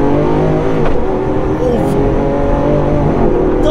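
A 750 HP Lamborghini engine in Corsa mode roars loudly and steadily with a rising rev, close and dominant, while people talk over it.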